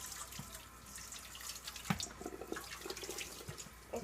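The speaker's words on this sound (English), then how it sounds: "And now we just have to rinse these potatoes." Potatoes being rinsed under a running kitchen tap, a quiet steady water hiss with small splashes and drips as they are handled in the sink.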